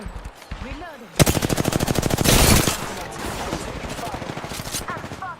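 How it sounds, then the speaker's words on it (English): Video game automatic gunfire erupts in one long, loud, rapid burst at close range, then fades into quieter background shooting and game sounds. "I'm spotted. Taking fire."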